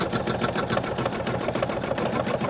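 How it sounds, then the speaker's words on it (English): An embroidery machine stitches the outline of an in-the-hoop snow globe Christmas ornament, closing the top fabric onto a bottom piece with matching thread; a steady, rapid mechanical needle chatter runs continuously and evenly up close. "Now we're doing the final step, which is stitching around the whole embroidery"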